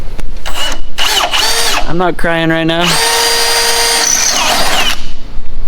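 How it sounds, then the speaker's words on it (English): A power drill whines up and down in loud bursts, boring holes through the rusty, patched body of an El Camino race car during a turbo LS engine build, with a person talking over it. "you can just drill the holes in it and not even care"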